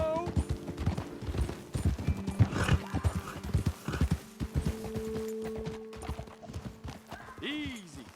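Horses in Red Dead Redemption 2 clopping along with rhythmic hoofbeats and a clear neigh or whinny near the end, close and fairly loud, while characters talk over the riding.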